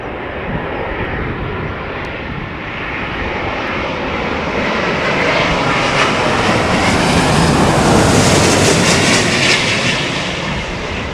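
A Qatar Airways Boeing 777 in retro livery roars loudly past at Heathrow during a storm, its jet engine noise swelling steadily toward a peak and then easing slightly, with wind rush beneath.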